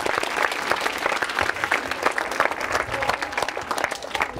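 An audience at a quiz show at a government women's engineering college in Ajmer claps in a dense, steady burst of applause lasting several seconds, moderately loud and close.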